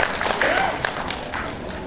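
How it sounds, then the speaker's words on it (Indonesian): Audience applause at an inauguration ceremony for a regional association's board, honoring the regent of Penajam; a steady, moderately loud wash of clapping from a crowd, with some voices mixed in. "Tepuk tangan buat Bupati Penajam."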